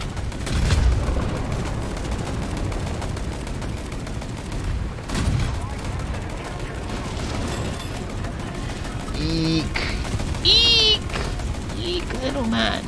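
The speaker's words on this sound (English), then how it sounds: "Can the gunners please stop shooting at shit they can't hit, please?" Gunners firing guns in a video game, bursts of gunfire and booms scattered through the scene beneath a player talking.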